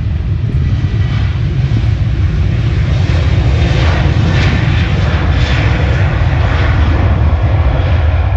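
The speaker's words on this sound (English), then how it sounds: "737-800 then takes off" TUI Boeing 737-800 taking off at Manchester Airport, a deep continuous jet-engine roar heavy in low rumble with faint higher whooshes, steady and fairly loud with no talking.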